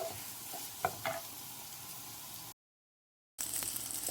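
A chicken egg fry sizzles and is stirred in a pan, a steady hiss with a couple of scraping clicks, then a short silent gap before the sizzle resumes.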